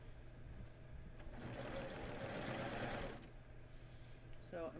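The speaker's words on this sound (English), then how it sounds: "So I'm just gonna stitch along here." A sewing machine stitches along a seam in a quick, even whirring run of about two seconds, close and moderately loud, in a quiet room.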